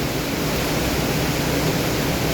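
Floodwater in a creek rushes past in a steady, dense roar, loud and unbroken, with no other sounds standing out.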